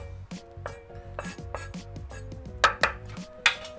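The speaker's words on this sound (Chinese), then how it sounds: "切碎佢。" A knife chops herbs finely on a cutting board in quick, close, rhythmic taps, with a few louder strikes toward the end and no talking.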